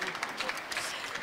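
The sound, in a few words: audience applause for Kevin Montilla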